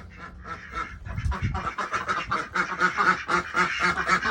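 Several ducks quack repeatedly and loudly close by, a busy overlapping chorus of nasal calls that grows more insistent over a few seconds.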